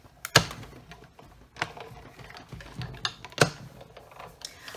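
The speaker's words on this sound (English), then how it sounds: "and just run that through the big shot." A Big Shot die-cutting machine is cranked to run gold foil through, giving a few sharp mechanical clicks and clunks spread irregularly over a quiet, close-up background.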